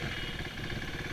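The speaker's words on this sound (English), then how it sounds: "the engine sounds a little different" A KTM Duke 390 motorcycle engine, just repaired for a stalling problem, runs at a steady idle close by, giving a continuous, even hum with a faint clatter.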